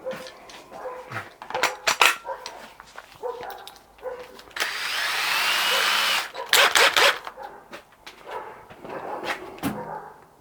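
A left-hand drill bit bores into a snapped stud, a sustained grinding whine of about two seconds surrounded by metallic clanks, taps and shop knocks.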